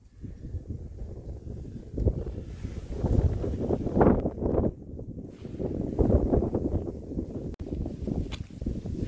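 Strong wind blows outdoors, buffeting the microphone in a steady roar that swells into louder gusts and briefly drops away, with occasional faint rustles and no speech.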